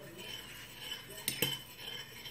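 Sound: stirring an alkaline solution with a spoon

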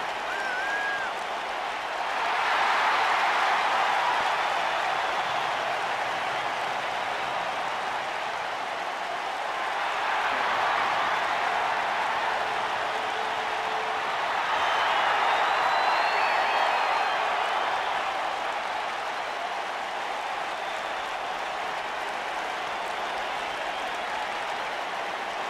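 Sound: wrestling arena crowd cheering in WWE 2K video game

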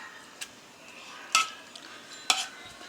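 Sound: mashing and stirring cooked carrots for carrot halwa

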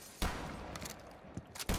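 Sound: scoped rifle shot in a video game

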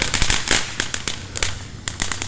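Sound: Phantom Fireworks Vibrant Voltage firework fountain going off

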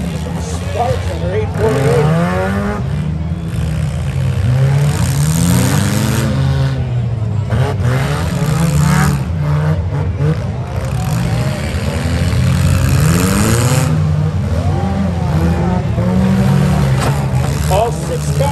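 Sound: cars revving in a demolition derby

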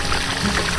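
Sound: water gushing from a gasoline drum river water pump

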